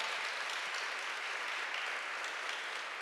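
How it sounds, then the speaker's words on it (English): Audience applause at the close of a conference session on the Pelicot trial, steady dense clapping from a full room sustained throughout without letup. "You can applaud Annika Joeres."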